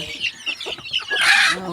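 Several chickens cluck and chatter close by in quick, overlapping calls, ending with a louder, higher squawk.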